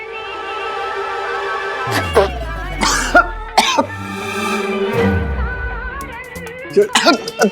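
A person in a Hindi TV drama scene falls into a coughing fit, with several harsh coughs and throat-clearing bursts in irregular clusters over a background of music and room sound.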